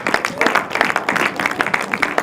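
A church congregation claps and cheers for Jesus, with dense, close applause of many hands and mixed voices running for a couple of seconds.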